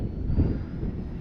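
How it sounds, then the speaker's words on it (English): Arrows RC Tecnam 2010 scale model plane flying at full speed against the wind, a brief droning engine buzz with a slight swell, mixed with wind rush, no voices. "It's a scale flying plane."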